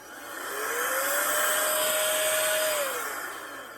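A Roedix electric air duster blows a steady, loud rush of air that ramps up in pitch, holds a whining tone for a couple of seconds, then winds back down.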